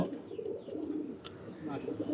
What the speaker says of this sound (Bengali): আমার সোয়াচন্দন কবুতরগুলোর আসল রূপ দেখা যাচ্ছে কি সুন্দর পাগলের মতো ডাকছে